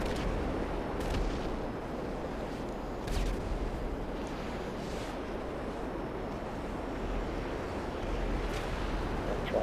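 Aircraft guns fire in short bursts during an air fight in the video game Warstock, sharp cracks spaced over a constant roaring wind and engine wash.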